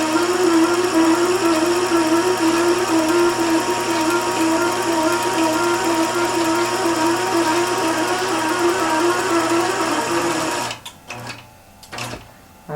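A Helen's iQ sewing machine stitching at short stitch length, a loud, close, steady rapid mechanical whir for about ten seconds, then stopping with a few clicks and handling knocks.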